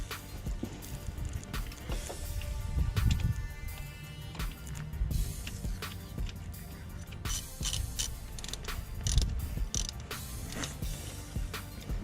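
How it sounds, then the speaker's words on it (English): Socket and ratchet tightening two nuts on a new serpentine belt tensioner of a 1994–96 Chevy Impala SS LT1 engine, a steady run of mechanical clicks and creaks with a few louder clunks, close by and with no talking. "Tighten the 2 nuts with the socket and ratchet."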